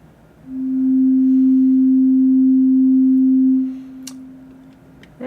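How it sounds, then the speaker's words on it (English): A pure, steady sine tone fades in, holds loud and unwavering for about three seconds, then drops away, followed by a couple of faint clicks. "I'm going to come in here and put a sine wave oscillator."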